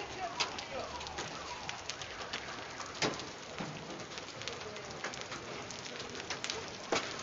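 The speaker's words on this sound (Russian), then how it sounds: "и град-то крупный." Large hail falling in June in Chelyabinsk, a dense continuous patter with scattered sharp impacts, steady and moderately loud throughout.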